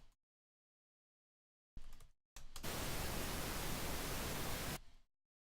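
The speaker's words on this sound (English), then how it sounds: "let me know if you can hear my pink noise" Steady pink noise test signal generated in SuperCollider plays alone for a couple of seconds, preceded by a short burst and stopping abruptly into silence.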